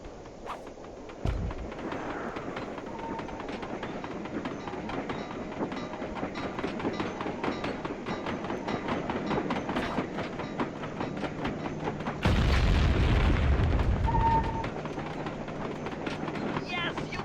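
Game train from Sly 2, an Iron Horse locomotive and its cars, rumbling steadily with rhythmic clatter for the whole stretch and a louder burst near the end, while background game sounds play.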